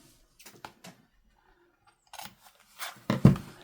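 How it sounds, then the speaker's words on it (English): Scissors cut paper for a junk journal in a few short crisp snips, close and fairly quiet, with soft rustling and handling of the paper between cuts. "So I'm thinking maybe cut right here on this one."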